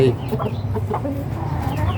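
A fighting rooster, one of four birds kept in a small backyard pen, clucks in a string of short, close notes over steady low background noise.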